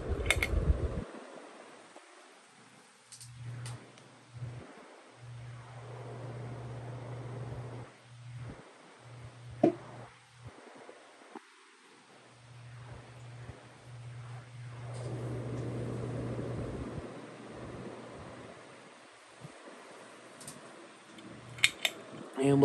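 A ToastMaster CEC spinner ceiling fan runs with a steady low hum that drops out briefly and returns, alongside faint clicks and soft rustling close by.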